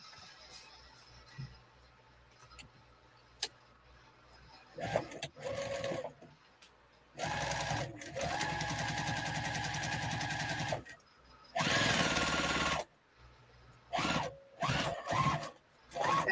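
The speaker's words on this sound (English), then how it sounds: "Sounds like she's sewing away now" A sewing machine runs in several bursts of varying length, steady whirring stretches separated by short pauses, with quiet background sounds in between and no talking.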